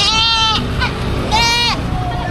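Goats bleat at a livestock auction in Padre Garcia, Batangas: two long, wavering calls and a shorter one between them, close and clear over a low murmur of background chatter.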